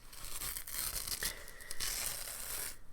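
Old material peeling off an antique radio speaker, a steady close tearing rasp lasting about three seconds, with a brief higher squeak partway through and no talk.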